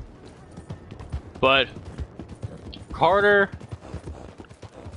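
Horse hooves clip-clop in a steady rhythm while riding, close and continuous beneath a person talking over the top.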